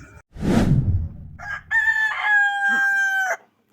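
A rooster crows loudly nearby, a single drawn-out cock-a-doodle-doo following a short rustling burst, then silence.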